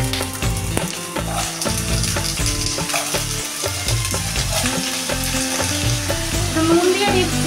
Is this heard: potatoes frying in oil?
yes